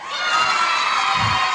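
A local high school cheering section on the Match Game studio set in 1981 lets out loud, sustained shrill whistles and cheers that fill the room without pause.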